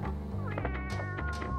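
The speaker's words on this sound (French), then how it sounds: "C'est le chat." A cat meows in the video game Tenchu, a short, wavering cry rising and falling over a steady low hum of game ambience, moderately quiet and with no talk.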